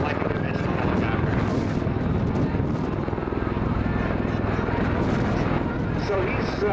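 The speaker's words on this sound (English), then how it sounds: "generally we just land it like a conventional helicopter" Helicopter landing, a loud, continuous rotor and engine roar with a steady low throb filling the whole clip, voices talking over it at times.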